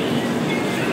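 A passenger train stands at Bandra railway station in Mumbai, giving a steady, dense rumble of rail noise with no distinct breaks or clacks, loud and close throughout.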